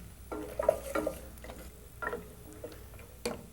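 Food being stirred in a pan with dried dill, salt and pepper, a few soft scraping strokes and light taps spaced irregularly over a quiet background.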